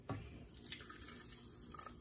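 Coca-Cola poured from a small 6-ounce glass bottle into a chocolate poke cake, a faint, steady liquid trickle with a soft splash at the start, close by and quiet.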